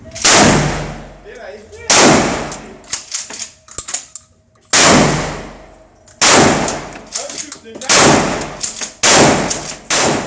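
A Black Aces pump-action shotgun with a 10-round magazine fires repeatedly, each loud blast ringing out, with racking sounds between shots; about five shots over ten seconds.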